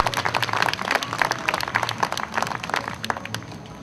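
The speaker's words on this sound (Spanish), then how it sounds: "Fuerte el aplauso." Audience applause at the inauguration of a cultural Sunday event, a close, uneven patter of clapping hands that stays fairly loud and then thins toward the end.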